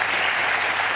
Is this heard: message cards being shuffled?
no